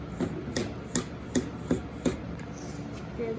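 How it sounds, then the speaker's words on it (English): A wooden dowel is hammered to drive a bushing out of a 1947 Farmall A engine during restoration: six evenly spaced, close, sharp knocks over about two seconds, then a quieter trailing rub, with no talking. "Drive the bushing out."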